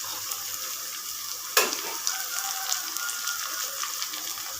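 Onions sautéing in oil for chicken biryani, a steady close sizzle and fry with one sharp clink or stir partway through, no talk.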